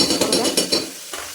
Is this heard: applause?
no